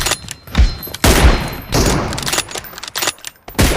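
Rapid gunfire in the mobile battle-royale game PUBG played on a Poco X3 Pro, several loud, close bursts of shots with short gaps between them.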